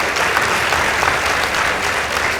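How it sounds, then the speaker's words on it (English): Loud, dense applause from the audience at a contest between State House High School and Karima Girls High School, cheering the State House Girls team. The clapping is steady and continuous, with a crowd murmur underneath. "Let's also appreciate them with a round of applause."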